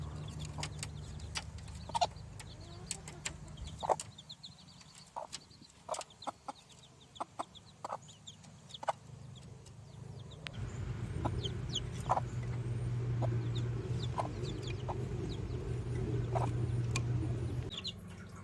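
A mother hen clucks softly to her newly hatched chicks, with scattered chick peeps and a steady low background hum that grows louder midway through.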